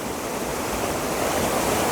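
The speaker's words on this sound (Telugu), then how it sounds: "వాటర్ ఫాల్ అయితే బాగా ఉధృతంగానే ఉంది" Constant roaring rush of water from a waterfall, loud and unbroken, with no voices.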